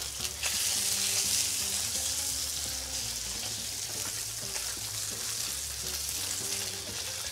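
Sea bass fillet frying skin-down in a hot pan, giving a steady, close sizzle and crackle that holds at the same loudness throughout, with no one speaking.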